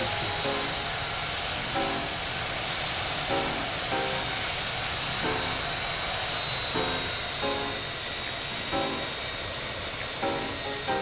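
A Southwest airliner lands in the Infinite Flight simulator on a flight from Burbank to San Jose, with a steady loud engine drone and a repeating soft pulsing tone throughout and no talking.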